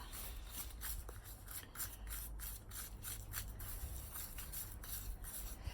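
Black tile grout being stirred and mixed for a mosaic, a steady close scraping and rubbing with repeated rhythmic strokes, no talking.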